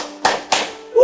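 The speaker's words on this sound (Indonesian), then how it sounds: "Kenapa tepuk tangan?" Two sharp hand claps spaced about a quarter second apart, close and fairly loud, during a church devotional broadcast, followed by the start of a voice.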